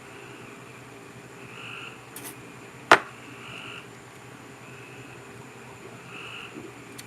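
Frogs croak in a steady, soft chorus of repeated calls against faint background hum, with one sharp click partway through.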